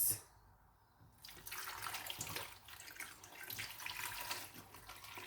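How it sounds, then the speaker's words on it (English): Water poured into a pot of plantain being prepared with catfish, a steady close splashing pour building after a quiet start and continuing to the end. "So I'm just going to add some water to it."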